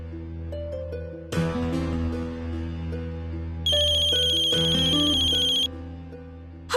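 A telephone ringtone rings loudly and steadily in a home, a bright electronic melody with repeating tones that swell partway through, heard alone without voices.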